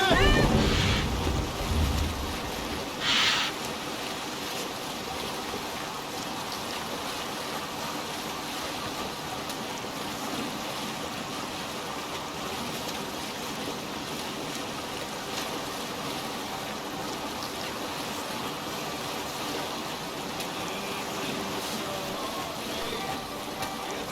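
A Viking longship sails across open sea in Assassin's Creed Valhalla, with steady wind rush and wave wash forming a continuous broad roar, plus a few brief thumps near the start.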